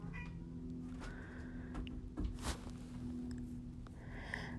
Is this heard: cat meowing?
yes